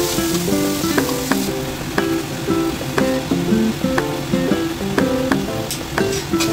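Clams hit a pan of sautéed onion and minced garlic, raising a loud, close sizzle with repeated clattering knocks of shells and stirring at a roughly regular beat, all without any voices.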